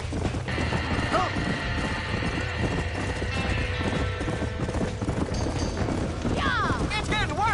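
Horses clip-clopping and whinnying in Red Dead Redemption around a burning barn, steady hoofbeats running throughout with sharp neighs near the end, under talk and background commotion.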